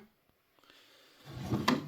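A wooden drawer sliding open or shut, a quiet, brief rumble after near silence with a few faint taps, then a louder scraping slide that ends in a bump.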